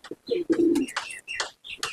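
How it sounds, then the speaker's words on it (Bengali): Punjabi Malwai pigeons in a loft, close and clear, giving a few throaty coos followed by short higher chirping calls, without voices. "পায়রা সব উড়ে এসছে"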